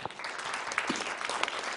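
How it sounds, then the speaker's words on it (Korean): Brief burst of steady audience applause welcoming a presenter at a Korean conference, dense overlapping clapping throughout with no speech. "여러분 큰 박수로 환영해 주십시오"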